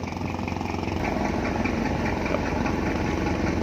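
A boat engine chugs steadily at close range while cruising along the Pattani River toward the Gulf of Thailand, a continuous even putter with no break.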